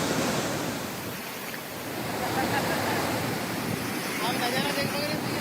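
Floodwater released from a dam during monsoon flooding in Maharashtra roars in a continuous, dense rush, loud and steady throughout with wind-like noise.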